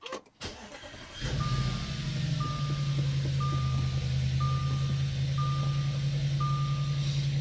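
A 2012 Audi S5 with a V8 and six-speed manual fires up after a click, settling into a steady close idle rumble while a chime beeps repeatedly in an even rhythm.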